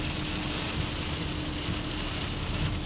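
Heavy rain pours down in a steady, dense roar that fills the scene without letup, loud and close, with no one talking.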